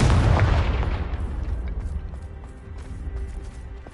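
A Confringo explosion spell goes off in the video game Hogwarts Legacy: one loud, close blast at the start that rumbles away over the next few seconds.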